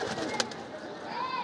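A Cobra pigeon in a loft gives a soft, brief coo over steady background bird noise, with no one speaking.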